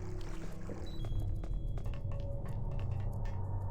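Water flows and gurgles in Metal Gear Solid The Twin Snakes, a steady pouring wash with scattered splashy clicks and drips over a low rumble.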